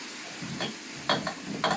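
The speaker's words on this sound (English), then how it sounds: "You've made it sizzling now." Maple syrup sizzling in a hot pan, with a few short crackling bursts over a low hiss, close by and moderately quiet.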